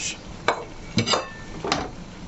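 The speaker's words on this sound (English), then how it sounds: "this is the smoked fish. I'll be adding it to the same pot." Smoked fish dropped into a pot of Nigerian okra soup, giving a few separate clattering knocks and thuds against the pot, close and moderately loud, with quiet pauses between them.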